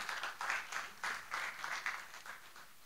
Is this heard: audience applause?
yes